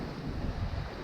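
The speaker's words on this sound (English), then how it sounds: "We're sailing downwind, so it's still gusting well over 20 knots." Strong wind gusts over the microphone aboard a sailboat running downwind on Lake Michigan, a dense, continuous roar with the rush of waves beneath and no talking.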